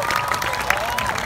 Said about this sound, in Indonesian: Tepuk tangan untuk Iremus dan CPS yang luar biasa.